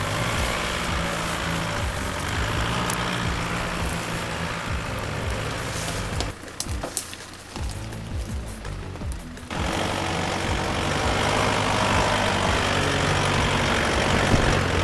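A Mitsubishi Pajero four-wheel drive with a new transmission runs along a farm track. Its engine gives a steady, loud low drone with broadband road and wind rumble and a brief dip midway.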